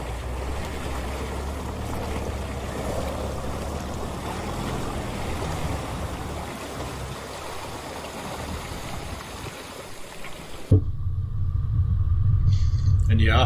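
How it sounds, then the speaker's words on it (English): Fast-flowing river in the Victorian High Country near the Macalister River, a steady broadband rush of water close by for most of the clip, then cut to a louder rumbling, engine-like noise at the end. "Nice fast flowing river"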